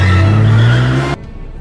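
A car in a superhero film scene, driving loud and close, with a steady engine drone and a tire-skid hiss that cut off abruptly near the end, leaving a quiet background.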